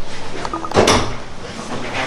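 A storage compartment lid on a new car is opened in a basement garage, making one short clunk midway that stands out over a faint background hum and murmur.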